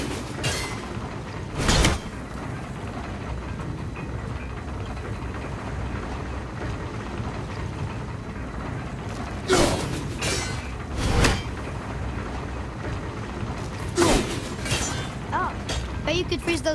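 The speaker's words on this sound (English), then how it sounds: "The rings are turning!" Giant rings and gears turning in the video game God of War: a long, heavy grinding and rumbling of massive machinery, broken by several loud clanking impacts, with voices talking now and then.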